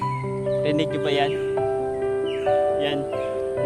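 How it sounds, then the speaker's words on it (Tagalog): Crows caw and other birds call outdoors near clear water, several harsh calls overlapping against a busy background with steady tones. "Yan, mga ibon."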